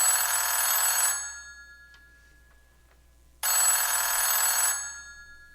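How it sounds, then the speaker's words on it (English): Old house telephone bell rings in two long, loud bursts separated by a few seconds of quiet, with no voices over it. "The phone is ringing."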